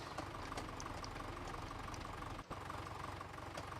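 A tractor engine idling in the Farming Simulator 17 farming game, a steady low rumbling drone with a faint knocking pulse and a brief dropout midway, with no talk.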